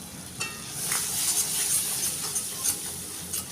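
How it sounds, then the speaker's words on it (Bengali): Spice paste, with a little sauce and chilli powder, fries in hot oil while being stirred, giving a steady soft sizzle broken by scraping stirs at intervals. "তেল না ছাড়া অবধি আমি একটু ভালো করে কষিয়ে নেব।"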